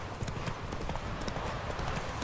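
Roach, a horse in The Witcher 3, gallops with steady, rapid clip-clop hoofbeats close up, running continuously throughout the short stretch.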